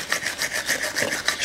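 Wire brush scrubbing the front brake caliper of a 2011 Chevrolet Epica during a disc and pad change, a steady close rasping with rhythmic back-and-forth strokes for a short stretch, no voices.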